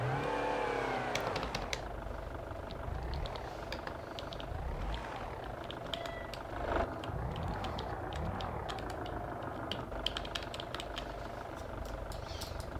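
A car towing a 200-kilogram trailer in the BeamNG Drive video game: a continuous engine drone with shifting pitch as it accelerates and eases off, plus occasional clunks and rattles, moderately loud and steady throughout, with no talking.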